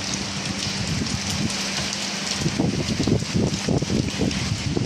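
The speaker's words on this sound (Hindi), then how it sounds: "ये देखो भाई, जबरदस्त बारिश है" Heavy rain pours steadily and loudly close by, a dense hiss with sharp drops spattering on a nearby surface, growing more intense toward the end.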